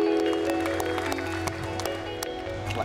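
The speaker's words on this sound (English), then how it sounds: "Cheered on by a crowd of international spectators, the competitors push the limits of their capabilities." International spectators at a disability sports competition clap and cheer for the athletes, scattered crowd applause mixed with sharp individual claps over a steady tonal hum and background noise.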